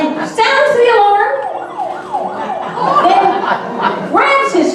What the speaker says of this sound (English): As soon as there's an accident, Murray, our first responder, rushes to the scene and sounds the alarm